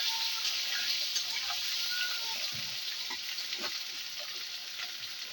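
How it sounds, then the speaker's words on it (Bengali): Potatoes frying in hot oil while being stirred in a pan for a home-cooked aloo dum, a steady close sizzling hiss with occasional scraping and stirring knocks, no talking. "আলুটাকে একটু ভালো করে ভেজে নেওয়া হবে"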